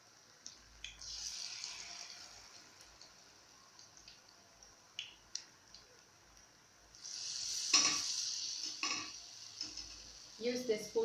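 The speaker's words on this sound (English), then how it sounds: "Use the spoon to separate them." A spoon scrapes and stirs spiced potatoes frying in a pan, a soft sizzle that swells louder partway through, with a few clinks of the spoon and quiet talk at times.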